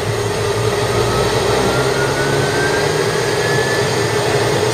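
Piper PA-46T Meridian turboprop engine running up during start, a loud steady roar with a high turbine whine held close and continuous throughout, no voices.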